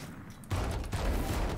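Gunfire in the Valorant shooter game breaks out as a dense, fast burst of shots that starts abruptly after a brief quiet lead-in and continues at moderate volume with no one speaking.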